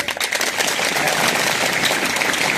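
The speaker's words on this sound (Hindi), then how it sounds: "ताली बजाओ जोर से" Students in a government school hall at Gharsana clap loudly together, a thick, continuous burst of applause that stays strong throughout, with some voices mixed into the noise.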